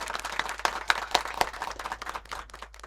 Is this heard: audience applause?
yes